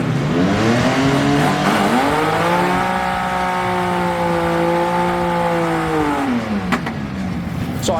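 A drag race launch, the Spit 6 car against the Bug Zapper truck: loud, close engines rev and howl, pitch sweeping up and down through the run for several seconds, with brief sharp bursts near the end.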